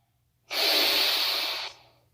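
A single long, strong exhale through the body during a seated yoga twist, close and alone in a quiet room, lasting about a second.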